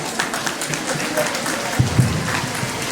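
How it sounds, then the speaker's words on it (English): Audience applause at a school graduation ceremony for UKG children, steady clapping from a seated crowd that carries through the whole stretch, with scattered voices and brief louder bumps mixed in. "Let's encourage her with a big round of applause"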